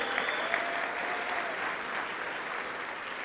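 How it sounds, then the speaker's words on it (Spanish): A church congregation claps together in a dense, steady round of applause that fills the room evenly throughout. "¿Quiénes le dan un aplauso al Señor?"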